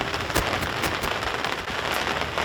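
Steady rain falls at Freiburg Park rugby ground, a dense, loud and constant hiss with scattered sharper drops and taps throughout.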